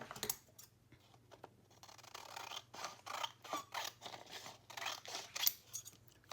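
Scissors trimming paper around an element of a Christmas junk journal, giving a series of close, soft snipping and rustling cuts in an uneven rhythm with short pauses in between.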